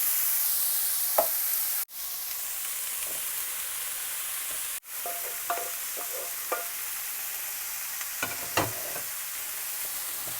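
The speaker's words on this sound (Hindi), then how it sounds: "और इसको अच्छी तरह मिक्स कर लेंगे।" Stir-fried peas, sweet corn, broccoli and boiled carrots being mixed with black chickpeas in a pan, with steady soft sizzling and a few sharp scraping stirs of the spoon throughout, no talking.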